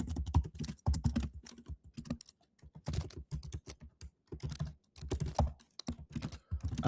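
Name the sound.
typing on a computer keyboard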